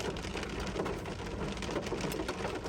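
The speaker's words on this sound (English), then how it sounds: "It is raining loud" Loud rain falling in a dense, even patter with a steady rapid drumming texture, close and unbroken for a few seconds with no voices.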